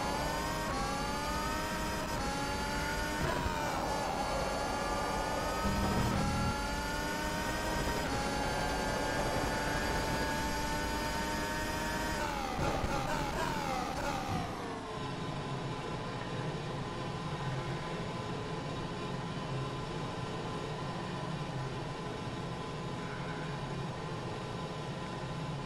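High-revving F1 2020 car engine in the rFactor 2 racing game, a continuous harmonic whine with pitch sweeps through gear changes, then settling to a steadier lower drone after a shift midway.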